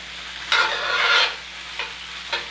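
Metal utensil stirring and scraping food in a hot cast iron pan, with steady sizzling broken by three scraping strokes, one long and two short, close and clear without speech.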